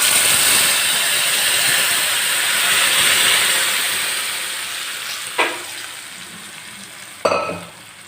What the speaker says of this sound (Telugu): పోపు ఫ్రై అయింది కదా, ఇప్పుడు మనం ఇందులో రుబ్బు పెట్టుకున్న వంకాయ అయితే వేసేసుకుందాం.